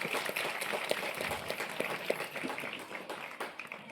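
Students and guests at an Independence Day school program in India clap to welcome a performer, a fairly quiet, loose patter of hands with a few sharper individual claps standing out, fading slightly toward the end.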